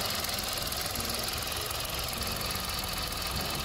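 A 2014 Hyundai i10 with a 1.0 petrol engine and manual gearbox idles steadily nearby, a continuous even mechanical hum with faint ticking texture and no talk over it.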